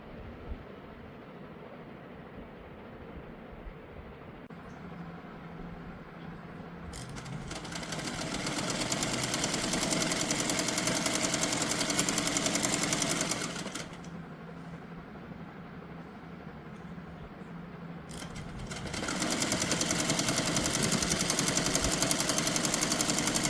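A sewing machine stitches a straight pant in two long bursts of steady, rapid whirring, pausing briefly between runs, fairly quiet and with no talk.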